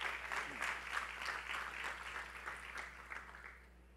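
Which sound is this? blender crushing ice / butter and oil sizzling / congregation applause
congregation applause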